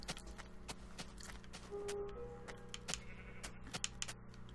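Sheep in the Minecraft video game bleat over a busy game soundscape, a few short cries standing out among clicks and clip-clop-like steps at moderate loudness.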